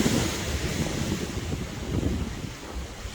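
Steady 16 mph wind roars and buffets the microphone beside a gas fire pit, a dense low rumble that surges slightly and eases toward the end, with no voices.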